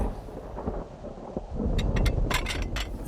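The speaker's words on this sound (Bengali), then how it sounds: "রাত হলো, বৃষ্টি এখনো ঝরছে, ঝড় এখনো গর্জন করছে।" Thunderstorm with rain as a sound effect in a Bengali audio horror story: a low rumbling roll of thunder under steady rain, swelling louder in the second half with sharp bright crackles.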